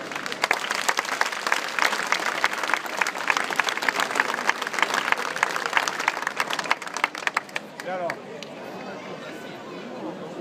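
Dense audience applause fills an outdoor town square in Muro Leccese during a comedy show, loud and steady for about seven seconds before thinning out as a voice speaks over the dying claps.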